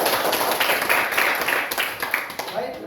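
Junior high school students in a classroom break into a burst of dense, close clapping that gradually thins and fades, with voices mixed in underneath.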